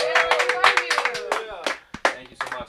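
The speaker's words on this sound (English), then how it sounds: "Clap it up for your host" Comedy club audience applauding the host, a dense burst of clapping that thins into scattered claps, with a voice speaking over it.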